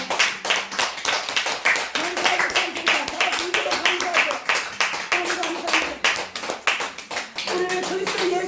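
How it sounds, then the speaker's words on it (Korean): Church congregation clapping along steadily in rhythm during a Korean worship service, with a sung or spoken voice carrying on over the hand claps throughout. "박수치고 하나님 높이셔야 됩니다."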